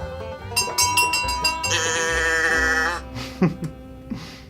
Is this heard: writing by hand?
no